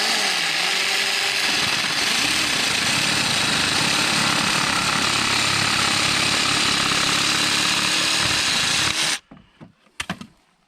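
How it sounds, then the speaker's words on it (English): A Craftsman V20 20-volt cordless variable-speed jigsaw runs on a 2 amp hour battery with a loud, steady buzzing saw rattle for about nine seconds, then stops abruptly, leaving a few faint clicks and handling knocks. "a little bonus video of the jigsaw"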